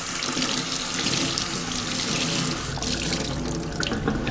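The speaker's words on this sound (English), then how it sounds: "Now we're going to rinse everything we just washed." Water runs steadily from a tap while a baby is rinsed during a bath, a loud, continuous close-up splashing stream with slight shifts as the flow is moved around.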